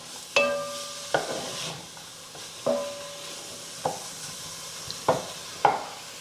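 Garlic heating in oil in a pan for red lentil soup, with a steady low sizzle beneath repeated sharp clinks and scrapes of a utensil stirring against the pan at a close distance.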